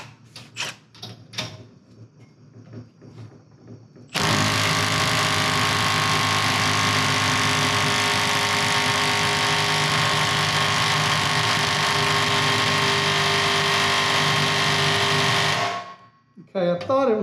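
A Milwaukee 12-volt impact driver on a 4 amp-hour battery hammers continuously and loudly for about eleven seconds, following a few short taps and some background voices, then stops abruptly.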